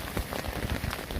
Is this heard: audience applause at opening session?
no